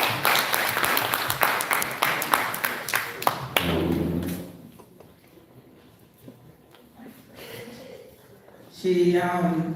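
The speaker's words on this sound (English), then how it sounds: "So we're going to just give her a round of applause." An audience at a water sanitation and hygiene maintenance training workshop gives a round of applause, heard as a few seconds of lively clapping that fades into quiet room noise, with a voice starting to speak at the end.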